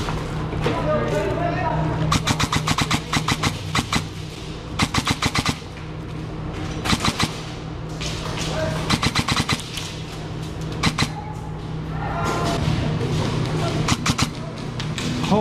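Video game gunfire crackles in rapid bursts of sharp shots, some single and some in quick strings, loud over a steady background hum, with someone talking at points.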